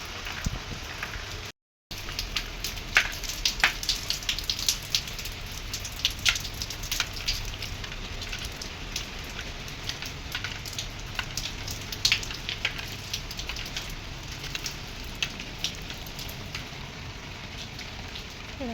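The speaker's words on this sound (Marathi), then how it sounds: "सकाळपासून की मोठा पाऊस होता आणि आता झुरमीट चालू आहे" Light drizzle pattering on a surface, with scattered distinct drops ticking over a soft steady hiss; no one speaks.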